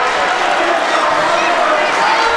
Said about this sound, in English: listen to this crowd. Yep. They're coming to their feet